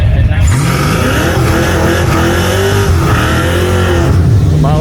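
A Corvette bracket racer at a rally roars steadily throughout, its engine droning loud and close with revving changes, while an announcer talks over it.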